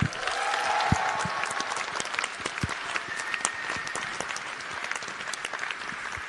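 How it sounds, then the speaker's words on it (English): Conference audience gives a big round of applause welcoming actress Charlize Theron, steady dense clapping from a large crowd, evenly sustained throughout. "A big round of applause."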